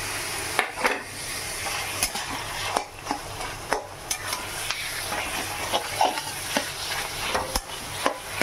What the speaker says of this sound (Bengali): আদা, রসুন আর লঙ্কা হালকা লাল লাল মতো হয়েছে। এবার চিকেন কিমাগুলো দিয়ে দেবো।